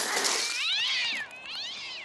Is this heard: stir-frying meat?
no